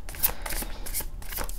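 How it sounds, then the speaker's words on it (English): Tarot cards are shuffled by hand in repeated quick riffles and flicks, a crisp papery rustle that comes in bursts close to the microphone with no talking. "when I was shuffling the cards"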